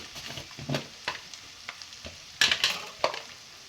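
Egg paneer pulao ingredients fry in a pan with a low sizzle, broken by irregular scrapes and clatters as a spoon stirs them, fairly quiet and close.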